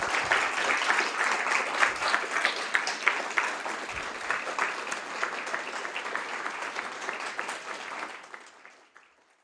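An audience at an evening lecture gives a warm round of applause, steady and full for several seconds, then thinning and fading out toward the end.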